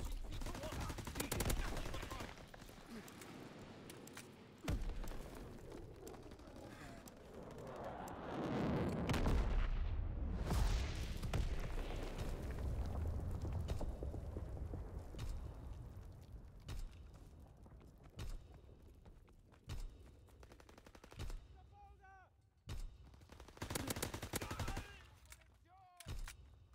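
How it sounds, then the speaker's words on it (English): V2 rocket launch and blast in a Call of Duty WW2 team deathmatch on the Gibraltar map: a deep swelling roar builds to a heavy rumbling explosion, followed by scattered gunfire and distant battle noise. "Launching V2 rocket."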